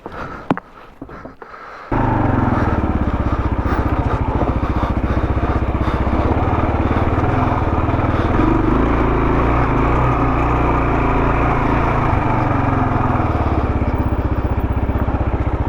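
A dirt bike engine, a Honda CRF 450RL or Kawasaki KLR 650 on an evening ride, starts after a few quiet knocks and then runs loud and close with a steady thumping idle and mild revs.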